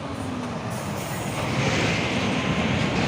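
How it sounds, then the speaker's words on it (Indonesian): Two Hino 500 Euro 4 trailer trucks drive past climbing uphill, a steady, loud broadband rumble that swells slightly as they come nearer, with no talking. "Hino 500 Euro 4 2 unit truk trailer."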